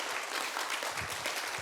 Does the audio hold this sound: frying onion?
no